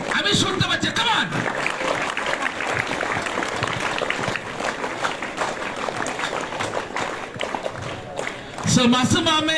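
Audience applause at a school charge-handover ceremony at JNV Karimganj, a broad steady wash of clapping lasting several seconds with voices heard over it near the end.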